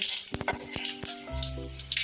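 Dried red chillies, a bay leaf and panch phoron sizzle in hot oil in a pan, a crackling hiss with a few sharp pops, close and clear with no voices.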